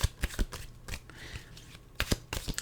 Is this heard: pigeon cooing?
no